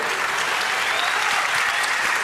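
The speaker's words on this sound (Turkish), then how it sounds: "Maşallah çok alkışlayan var." Loud, continuous applause fills a television talent show studio after a roller skating club's performance, a dense, unbroken roar of many hands clapping with no speech.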